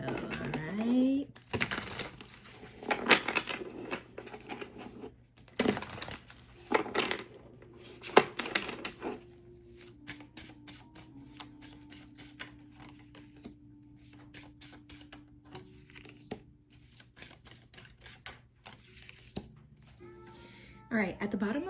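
Tarot cards are shuffled in a series of quick crisp riffles and soft slaps, close up, with several separate bursts and a steady faint hum beneath, while a person speaks at times.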